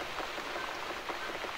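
Steady rain patters on a surface in the video game The Cat Lady, a soft, even wash of droplets with no voices over it.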